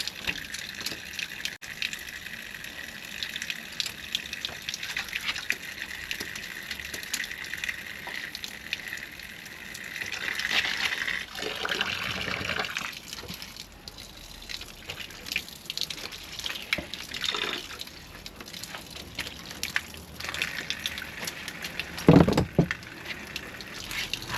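Water runs from an outside tap during plumbing work, a continuous hiss and splash with fluctuating surges and brief louder gushes, heard close with no talking.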